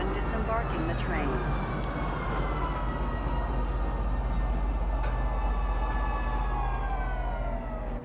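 A Metro Center train in the game Star Citizen pulls into the station with a loud, steady rumble and whining, sliding tones. Faint talk sits in the background throughout.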